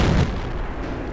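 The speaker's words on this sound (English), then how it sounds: "The Panzer 1C pops up and basically annihilates the Covenanter, and a whole clip of shells into him" Tank cannon shells fire in the World of Tanks game, a loud boom at the start settling into a rumbling decay over about a second, with no voices.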